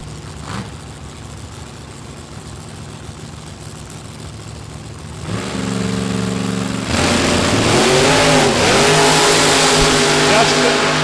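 Drag strip launch of a 1941 Willys and a 1955 Chevy: a steady idle and announcer chatter give way to a loud, rising roar of racing engines revving hard and pulling away, filling the final seconds.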